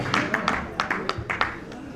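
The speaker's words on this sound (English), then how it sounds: "A round of applause, ladies and gentlemen." Scattered hand claps from a small group at an investment conference dinner, uneven and fairly light, with a low murmur underneath.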